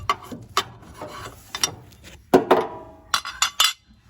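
A removable part of a Harman pellet stove is pushed up and lifted off during a quick cleaning. Scattered metallic clicks, clinks and scraping knocks come in irregular bursts, close by and without talk.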